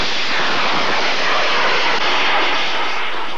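Canadian Forces Viper minefield-breaching rocket being launched, a loud continuous roaring rush filling the whole few seconds, with no voices.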